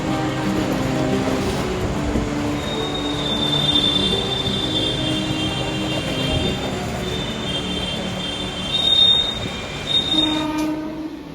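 A local passenger train rumbles across the bridge over the Damodar river, wheels clattering steadily up close with a long high squeal from the rails and brief louder bursts near the end.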